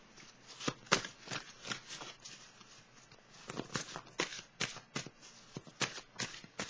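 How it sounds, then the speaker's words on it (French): Tarot cards shuffled and drawn from a deck, a run of crisp papery flicks and riffles in quick uneven bursts, close and moderately quiet, with no voices. "Je vais piger une carte, attendez un petit peu, pour terminer"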